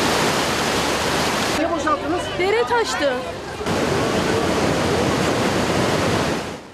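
A creek in Zonguldak overflowing after heavy, unseasonable rain, a loud steady roar of rushing floodwater that fills the whole scene, with a person briefly speaking over it.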